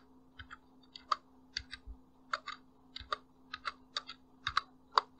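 Keys clack on a computer keyboard as a command is typed, a steady run of close, crisp clicks in irregular bursts over a faint constant hum, with no talking.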